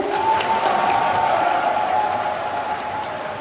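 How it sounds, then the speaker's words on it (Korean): Wedding guests in a hall give sustained applause and cheering in response to the emcee's request, a steady dense wash of clapping from a large crowd with no clear speech on top. "박수 부탁드리겠습니다, 여러분."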